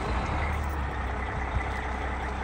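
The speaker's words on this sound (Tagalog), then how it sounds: "Okay, kaandar ng ating bus." A tour bus engine runs at a steady, loud drone, heard close and from inside the bus, with no distinct start-up and no talking.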